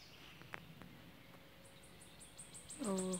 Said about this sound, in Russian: Ох, как птички поют.